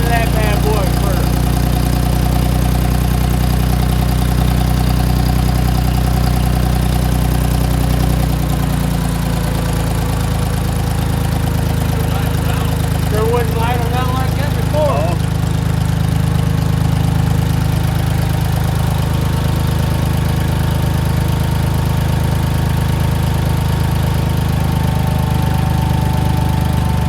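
A Ford 3000 tractor engine idles after a Holley carburetor rebuild, a steady low chugging with a faint knock that settles into an even rhythm, loud and close, with brief background voices partway through.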